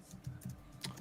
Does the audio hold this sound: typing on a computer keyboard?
yes